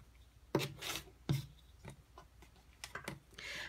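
Fabric for a quilt is cut in a few soft, separate snips and rasps, close and quiet, with gaps between strokes.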